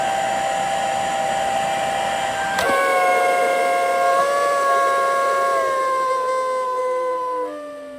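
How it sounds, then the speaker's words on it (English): A badly clogged Dyson Ball upright vacuum runs with a loud, high whining howl like a siren, its pitch jumping abruptly partway through and then sliding downward near the end, close and steady with no talking. "it makes a really, really loud noise when you turn it on, like it's tripping a valve"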